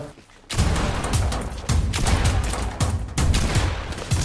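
Rapid bursts of gunfire in the video game Fortnite, loud and dense after a brief quiet start, with repeated shots and thumping impacts crowding together in quick succession.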